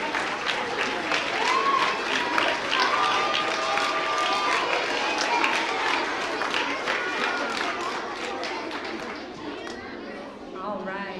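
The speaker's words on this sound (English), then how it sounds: "Let's give our actors a round of applause." An audience applauds the actors at a school performance of The Grinch Who Stole Christmas, with sustained clapping and crowd chatter that fade slightly toward the end.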